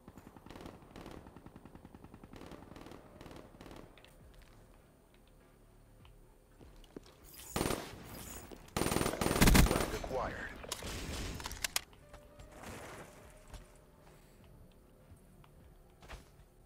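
Automatic gunfire in Black Ops 3 multiplayer, a few quiet shots early, then a loud close burst of rapid fire with scattered shots trailing off, over faint game ambience.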